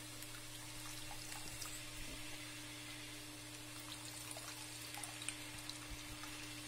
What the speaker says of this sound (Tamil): நான் வந்து ஒரு கப் புளி தண்ணி ஊற்றுறேன்